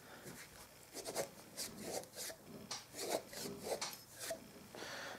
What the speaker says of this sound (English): Then I clean it up with a cheesecloth at the end of a flute cleaning rod.